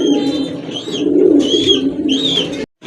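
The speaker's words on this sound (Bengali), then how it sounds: "এক জোড়া রাজশাহী গিরিবাজ কবুতর" A pair of Rajshahi Giribaj pigeons coo softly and repeatedly, close by, with low throaty rolling calls over a faint background.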